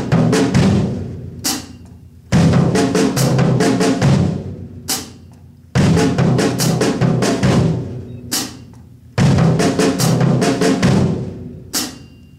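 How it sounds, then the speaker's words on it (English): A drummer mixes single and double strokes between snare and floor tom, playing four repeated phrases of rapid hits, each bar opening with a dense roll and ending with sparse accents; close, loud and without talk. "So that was mixing single strokes and double strokes."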